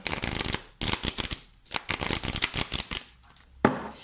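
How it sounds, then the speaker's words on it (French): Oracle cards being shuffled by hand up close, repeated rapid riffling bursts separated by brief pauses, ending with a sharp tap of the deck. "Je mélange bien"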